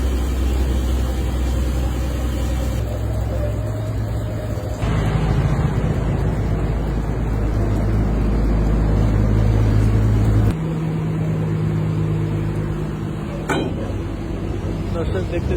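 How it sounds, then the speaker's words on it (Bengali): A trawler boat's engine idling and rumbling as it enters through a river sluice gate, a steady low heavy drone that shifts in pitch partway through, with people talking over it throughout. "এখান থেকে এখন ট্রলার ঢুকবে।"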